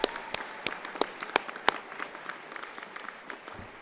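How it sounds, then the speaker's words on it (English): Audience applause at a college commencement ceremony, a steady wash of many hands clapping at moderate distance with sharp individual claps standing out, no talk over it. "I'll give that a round of applause."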